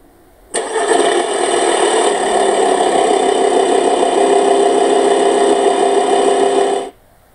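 A car engine cranks and catches, then settles into a steady idle that runs loud and close for about six seconds before cutting off abruptly.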